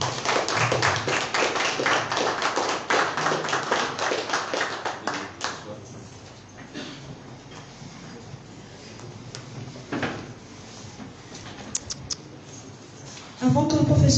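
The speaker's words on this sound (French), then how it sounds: "applaudissons pour lui." Audience applause at a Gabonese political conference on the 2023 presidential election, a dense burst of clapping that fills the room for several seconds, then thins out into scattered claps and faint murmurs before a loud voice breaks in at the end.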